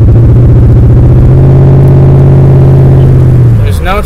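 A Buick Roadmaster with an LT1 engine runs loud and close with a bogging, misfiring idle that drones unevenly, then surges and drops away near the end.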